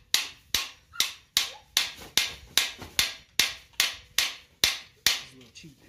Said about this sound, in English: This little cheap hammer I got.